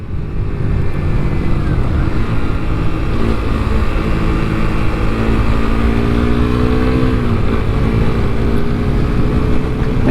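A 2021 Suzuki GSX-S125 motorcycle being ridden gives a loud, steady engine drone whose pitch climbs in sweeps as it revs, heard close with no talking.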